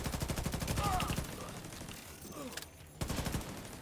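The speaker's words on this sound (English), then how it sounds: "We're pinned down by turrets at the main gate!" Rapid turret gunfire in a video game, dense repeating bursts that fill the start and end with a quieter stretch and a brief gap between, overlapping game voices and talk.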